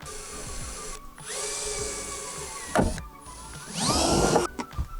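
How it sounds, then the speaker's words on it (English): A power drill whirs in two short bursts, spinning up and down as it bores a small hole, with clicks and handling noise between runs. "we'll drill a small pilot hole"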